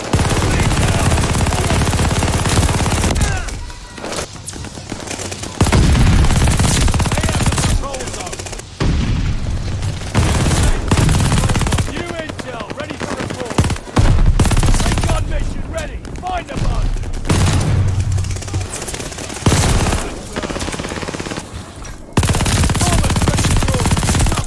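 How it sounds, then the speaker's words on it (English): An MG42 machine gun fires in a Call of Duty game, ripping long, extremely rapid bursts that are loud and close, separated by brief pauses, with a few short gaps where a voice is heard. "This is exactly what an MG42 should sound like in a video game."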